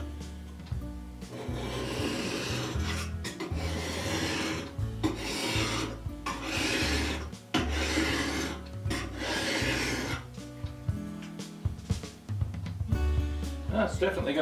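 A blade drawn repeatedly across a coarse, old-fashioned sharpening stone, loud close rasping strokes in an uneven rhythm with brief pauses between passes.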